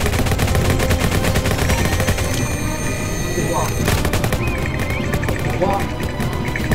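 Gunfire in a shooter video game set amid a casino-themed match, dense repeated shots layered with horse whinnies and hoofbeats, loud and busy under excited player chatter.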